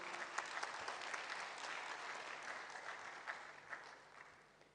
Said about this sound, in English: Let's welcome him with a hand of applause